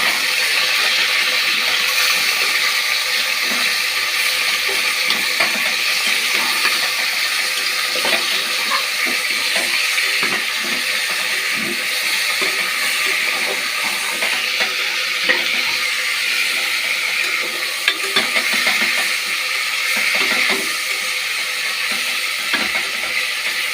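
Food sizzles steadily in a frying pan after salt is added, with scraping and stirring sounds running continuously and loudly throughout, and no talk.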